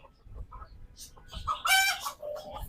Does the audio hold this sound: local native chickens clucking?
yes